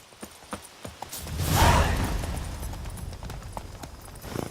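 Horse hooves clip-clop in an even walking rhythm in The Witcher 3: Blood and Wine, with a soft whooshing swell early on under the steady hoofbeats.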